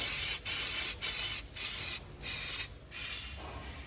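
Repeated bursts of brake cleaner spray on a Ford Everest's rear brake caliper bracket, five long hissing blasts separated by short pauses, close and loud, with the last one trailing off.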